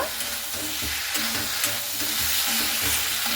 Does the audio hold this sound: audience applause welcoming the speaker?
no